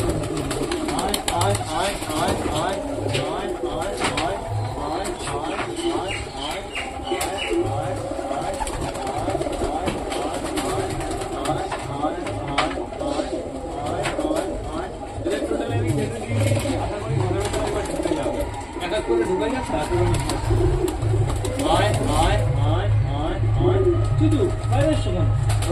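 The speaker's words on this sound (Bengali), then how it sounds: "চলো এবার আমরা সবকটা পায়রাকে খেতে দিয়ে দিই।" Pet pigeons cooing in a steady, low, murmuring chorus indoors, with people talking over the birds throughout.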